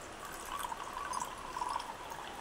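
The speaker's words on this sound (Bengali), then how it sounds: "তো এখন আমি এর মধ্যে জল ঢেলে দেবো।" Water poured into a small bowl of semolina for soaking, a soft continuous trickle close by, quiet and steady with faint splashy fluctuations and no talking.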